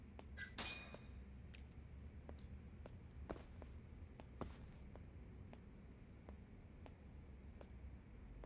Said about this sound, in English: Who's those footsteps?